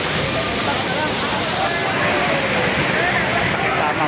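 Mother Falls waterfall in Baler, Aurora, roars as a steady broadband rush of falling water, loud and continuous throughout, with no pauses or breaks.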